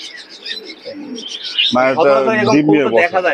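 Pigeons coo and chirp at the Big Bazar pigeon market in Khulna, soft burbling calls near the mic that are soon joined and partly masked by someone talking close by.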